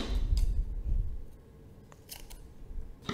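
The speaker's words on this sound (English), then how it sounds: "Now you can simply cut the yarn" Scissors snip through crochet yarn in a couple of quick, close clicks, with light handling noise around them and no speech.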